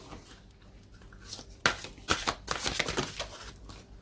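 Tarot cards are handled and straightened, a quiet rustle that turns into a few brisk, close shuffling riffles and flicks near the end.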